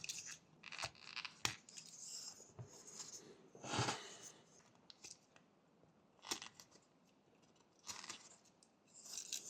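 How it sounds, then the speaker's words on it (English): A knife blade tip carving V cuts into wood while whittling a small dragon figure, producing faint, scattered scraping and crisp snicking strokes spaced irregularly with quiet gaps between. "So here I'm making a V cut with the tip of the blade,"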